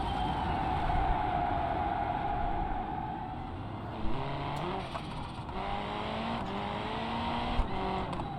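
A race car's engine revs up through the gears toward top speed in the driving simulator BeamNG, a loud, rising drone with audible shift steps and a few clunks, played without talk.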